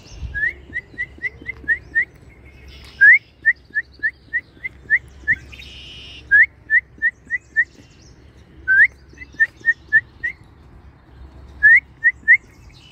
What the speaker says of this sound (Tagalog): Bird is singing.